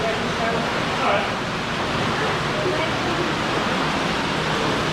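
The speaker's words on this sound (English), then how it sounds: "Are you going up the waterfall then, Alma?" Water from a waterfall inside a cave roars as a dense, continuous broadband rush, loud and even throughout, with voices faintly present beneath it.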